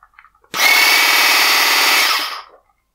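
A Graphite 58G098 two-in-1 garden pole saw motor starts up and runs steadily for about two seconds, a loud continuous whine with a buzzing mechanical edge, then winds down, with no one talking.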